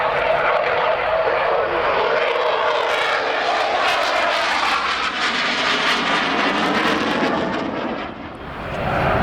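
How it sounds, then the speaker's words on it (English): A Eurofighter Typhoon jet flies past at the RAF Cosford airshow with a loud, sustained engine roar that rises and shifts in tone as it passes, dipping briefly near the end. "Sir Lieutenant Ben Westerby Brooks of 29 Squadron is the man in the Typhoon."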